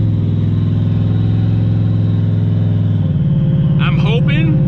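A Ford Mustang SN95 engine held against the foot brake drones in a steady loud idle, then its pitch shifts about two-thirds through as a brief voice cuts in over it.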